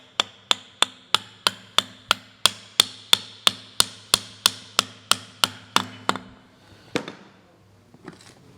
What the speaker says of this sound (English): so I'll just tap it with a soft hammer.